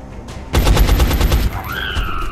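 A loud burst of rapid automatic gunfire crackles for about a second, followed by a rising electronic whine: overwatch fire in the video game XCOM: Enemy Unknown.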